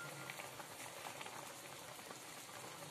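A pot of fish curry with sankara (red snapper) bubbles steadily at a low simmer, a dense, continuous crackle of boiling liquid close by with no voices.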